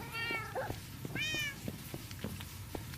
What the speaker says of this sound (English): And every time I come up here now, all I hear is meowing.